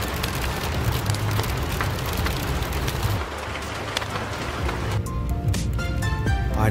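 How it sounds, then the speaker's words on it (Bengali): Heavy rain mixed with hail drums steadily and loudly on a vehicle during a Shimla-to-Manali road trip, a dense continuous roar with engine rumble beneath. "ফার্স্টে ঝিরিঝিরি, তারপর ঝমঝমিয়ে শিলাবৃষ্টি"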